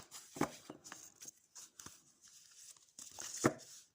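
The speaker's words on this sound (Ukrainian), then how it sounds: "Ці карти великі, незручно мішати, тому я буду отак їх просто перекидати." Soft papery rustles and light slaps of large oracle cards being flipped and shuffled, quiet and close, in a few short bursts with pauses.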